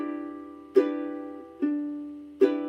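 Chords strummed on a guitar ring out in a chord-melody passage, three separate strums spaced apart, each decaying slowly, close and fairly quiet with no voices.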